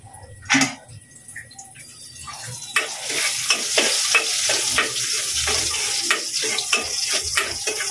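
Garlic sizzles and crackles in oil in a casserole pot for a home-cooked monggo dish, a close, steady frying hiss with stirring clatter, loud throughout after an early sharp knock.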